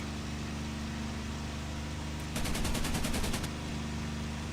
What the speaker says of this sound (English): fire a few shots off